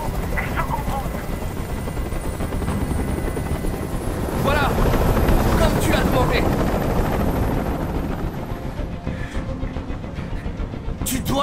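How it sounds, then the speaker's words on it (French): A helicopter hovering in the video game Detroit: Become Human, its steady rotor drone filling the scene, swelling slightly in the middle, while voices speak over it. "Fais dégager cet hélicoptère"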